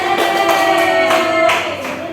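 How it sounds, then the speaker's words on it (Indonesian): A classroom of fourth-grade pupils claps for a group of classmates, a dense, steady patter of hands close by that fills the room at even loudness before easing off toward the end. "Oke, tepuk tangan untuk kelompok 1"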